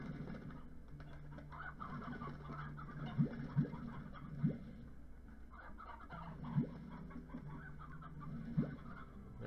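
Chickens in the video game Slime Rancher clucking softly in a low, murmuring flock, with a few sharper clucks popping out at intervals over a quiet background.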